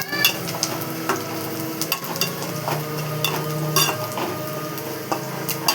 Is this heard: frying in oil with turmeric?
yes